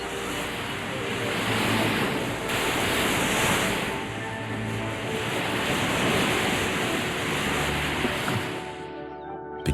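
Ocean waves surge and crash against the rocky Maine shoreline at Thunder Hole, a loud, continuous roar of surf swelling and easing in long pulses, with wind rumbling across the microphone.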